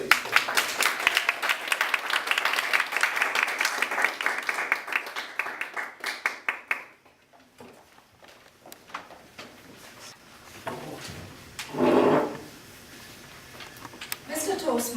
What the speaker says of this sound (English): round of applause for Daphne,